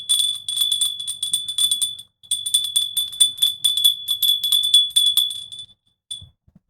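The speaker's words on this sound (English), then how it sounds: "I got the bell right here." A bell rung rapidly and loudly in a fast trill, first in one burst, then after a brief pause in a longer burst, followed by a short final ring.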